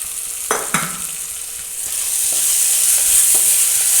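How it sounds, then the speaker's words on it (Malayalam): Ingredients with salt being sautéed in a frying pan. A couple of sharp scrapes come first, then a steady, close sizzle swells and holds with occasional stirring clicks, and no one speaks. "നന്നായിട്ട് നല്ലതായിട്ട് വഴറ്റിയെടുത്തിട്ടുണ്ട്."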